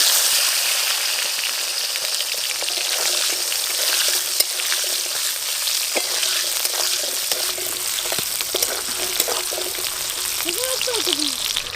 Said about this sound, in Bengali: গরম তেলে দিয়ে দেব পেঁয়াজ